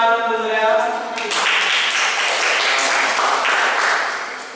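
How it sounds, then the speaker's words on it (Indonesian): Applause breaks out after a brief voice and continues as a steady wash of clapping from a classroom group for several seconds before thinning out. "Boleh tepuk tangan untuk saya."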